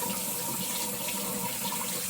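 Hot tap water runs in a steady, even stream into a sink to rinse off eyebrow tint, a continuous close splashing hiss with no voices.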